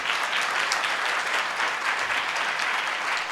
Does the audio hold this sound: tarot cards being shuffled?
no